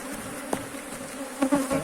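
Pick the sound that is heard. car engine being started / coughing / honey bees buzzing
honey bees buzzing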